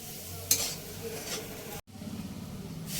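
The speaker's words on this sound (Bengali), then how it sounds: "আবারও এই জলটা দেবো একটু, দিয়ে নাড়াচাড়া করতে থাকবো" Spicy semolina with water is stirred in a pan, a spatula scraping over a soft sizzle with a sharp clink near the start and a brief silent gap midway.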